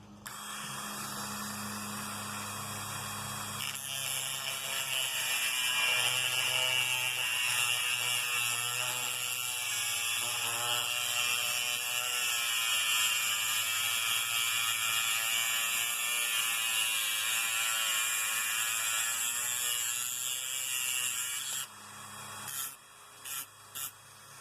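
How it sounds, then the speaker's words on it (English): A Dremel rotary tool cuts the head off a screw while repairing an electric heater, a steady high whine with grinding hiss lasting about eighteen seconds, then stopping with a few short bursts at the end. "So now let's take the Dremel and we'll cut the edge of that"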